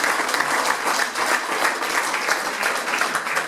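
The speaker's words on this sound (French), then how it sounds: "Et donc je voulais aussi qu'on l'applaudisse pour le remercier." Audience in a French outdoor gourmet-walk gathering applauds steadily for the full stretch, a dense, even wash of many hands clapping at close-to-mid distance with no talk over it.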